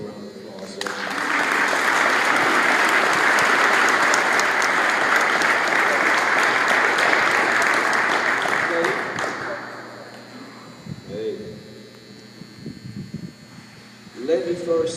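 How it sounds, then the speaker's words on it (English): A ceremony audience applauds the families at a military change-of-command event, a loud sustained burst of clapping for about nine seconds that then fades, with some voices and shuffling after. "Let's give the family a round of applause."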